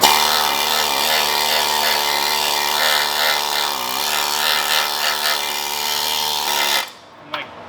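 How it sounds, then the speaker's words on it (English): A needle scaler chips grease and grime off a '67 highboy car frame, a loud, continuous harsh rattling buzz that runs steadily for most of the clip before cutting off near the end, leaving a brief faint clatter. "this is pretty much a scaler or needler gun or whatever you want to call it, a needle scaler"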